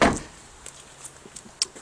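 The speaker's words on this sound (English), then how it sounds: "All the doors open and close nicely, indeed." Doors of a Daewoo Matiz SE Plus car are worked at a dealer, with a solid thump at the start and then lighter latch clicks and clunks. The sounds are close and short, with no talk.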